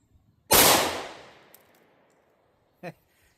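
A single loud, close gunshot from a 5.7x28 firearm firing FN SS197 blue-tip ammunition, with a sharp crack and a decaying echo, followed a couple of seconds later by a faint brief sound.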